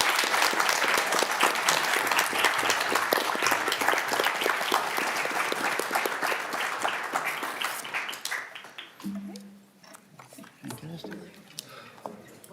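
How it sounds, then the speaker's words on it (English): An audience applauds regent candidates at a university forum, loud and sustained at first, then thinning out and fading after about eight seconds as scattered voices take over. "let's give all of the candidates a big round of applause"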